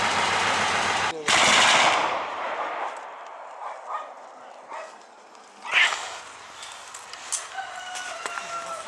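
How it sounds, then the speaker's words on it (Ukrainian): Distant small-arms and heavy machine gun fire in Shyrokyne: a loud, dense burst early on, then scattered sharp cracks and pops at irregular intervals over a faint background hum. "Зараз ми чуємо на центральній селищі де перестрілка зі стрілецької зброї, а також крупнокаліберних кулеметів"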